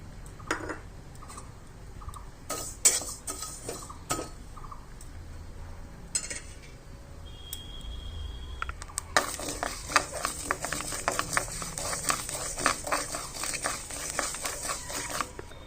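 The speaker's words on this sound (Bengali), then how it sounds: "চালটা আমি ভেজে নিচ্ছি।" Rice dry-roasting in a pan for a Bengali baan fish recipe. Soft scattered clicks and scrapes build into a dense, steady rustling and scraping of grains being stirred, close and fairly loud, with no talking.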